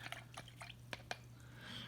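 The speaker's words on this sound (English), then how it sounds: "I do have some water here, and I'm going to clean my brush." A paintbrush being rinsed in a container of water while painting a craft box, giving a few faint separate splashes and drips over a steady low hum.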